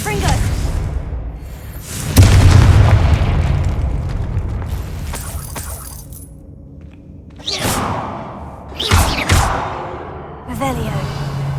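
Confringo spell blasts go off in Hogwarts Legacy, with booming explosions and whooshing bursts among game sounds. Several loud impacts land at irregular intervals, some followed by sweeping swishes, and a voice speaks over parts of the action.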